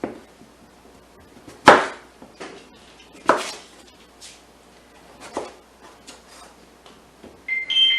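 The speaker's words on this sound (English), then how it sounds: "I'm going to start chopping." A knife strikes a cutting board chopping sweet potatoes in scattered chops, a few sharp loud knocks among softer taps, with quiet pauses between them.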